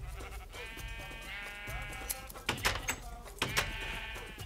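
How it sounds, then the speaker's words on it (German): Several sheep bleat in Minecraft, repeated wavering calls close by, overlapping with background game music. "dann werde ich jetzt die Schafe aber nochmal scheren"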